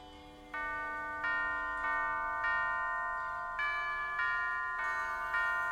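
Bells ring out in Alice: Madness Returns, a clear tuned peal struck one after another in an uneven sequence. Each new bright, sustained tone layers over the ringing of the last at a steady, fairly close volume.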